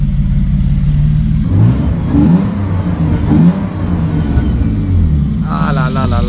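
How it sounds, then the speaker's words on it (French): A BMW E30 engine runs near and loud, blipped through a few sharp revs that rise and fall over a rough idle, with a voice speaking partway through. "j'ai fait tourner un petit peu la E30"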